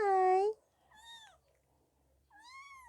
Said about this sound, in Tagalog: I hope nakukuha yung meow ng kuting.